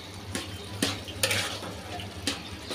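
A spoon stirs peas and spices in a pan for a pea and arum dish, giving four sharp scraping strokes over a low, steady sizzle close by.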